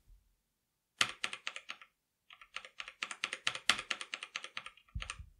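Typing on a Logitech G513 mechanical keyboard fitted with thick O-ring keycaps: a quiet, close burst of muffled key clacks, a short pause, then a longer rapid run of keystrokes, with no talking.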